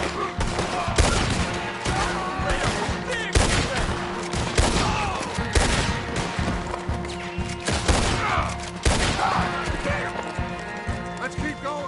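A Red Dead Redemption 2 shootout with repeated sharp gunshots cracking at intervals over a busy game mix of hoofbeats and horse sounds, loud and close throughout.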